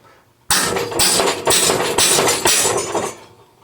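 Sharp metallic hammer blows knock a headset cup out of a bicycle head tube, about six loud, close strikes roughly half a second apart, each ringing briefly.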